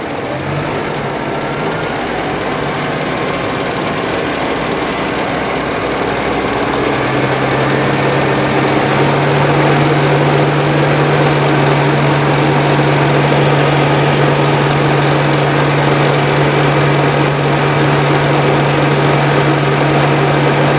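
A tractor engine rises from a steady idle to operating speed, settling into a loud, constant drone with a strong low hum and broadband mechanical noise throughout.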